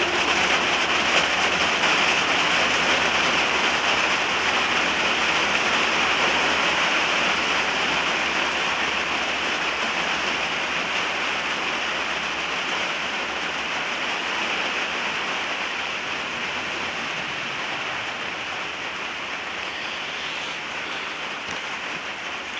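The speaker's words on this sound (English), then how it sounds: "So I thought for a minute that the rain was going to try and drown me out." Steady outdoor rain pours down in a dense, unbroken hiss, loud and close throughout with no pauses or talking.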